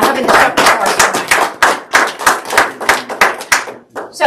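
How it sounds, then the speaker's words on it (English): Audience applause at an evening supper during a crop production weed management school, a small group clapping loudly and close, with distinct individual claps and uneven rhythm that thins out at the end. "why don't we give them a round of applause for having the supper for us tonight"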